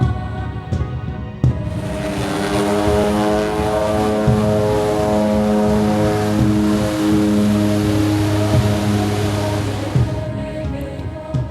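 Small propeller plane carrying six passengers with canoes, drums and bags takes off for a flight of just over an hour to Nahanni. A loud, steady engine drone fills the cabin throughout, with a few sharp knocks early on.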